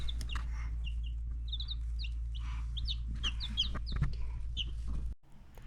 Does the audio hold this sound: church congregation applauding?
no